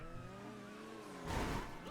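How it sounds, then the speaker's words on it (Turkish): An Apocalypse Issi car drifts in GTA 5 Online, its engine droning steadily before a louder burst of tire noise and revving near the end. No one speaks. "Abi araba dehşet drift yapıyor ya öyle böyle değil."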